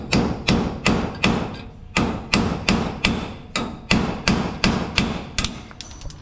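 Repeated hard hammer blows on a metal part of a racing vehicle, about a dozen sharp ringing strikes in a steady rhythm, close and loud with no talk.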